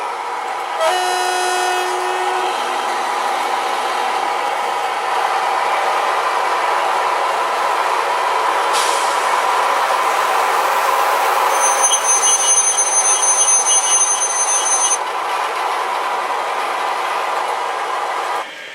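A DCC sound decoder plays a DR V60 diesel switcher locomotive sound file: a steady engine drone runs throughout, broken by sharp horn toots near the start and a longer tonal horn-like tone midway, with no talking.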